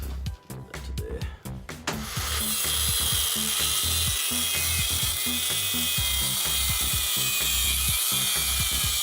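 Metal is cut by hand while a blacksmith's rivet tool is made: a few sharp knocks, then a steady run of close, rhythmic back-and-forth sawing strokes.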